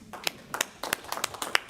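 A small group of committee members claps briefly at a Senate committee hearing, a few scattered, close hand claps over under two seconds with no talk.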